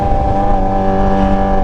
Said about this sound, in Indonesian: knalpot racing di motor-motor sport apalagi yang cc-nya gede itu